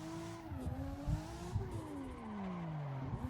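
Race car engine in Assetto Corsa revving and shifting, pitch climbing and dropping in steady sweeps with tire noise, loud and continuous throughout.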